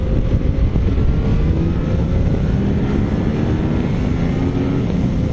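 A Yamaha Tracer 900 motorcycle engine pulls hard under acceleration, a loud, steady low roar with rising tones, recorded close with wind buffeting and no speech.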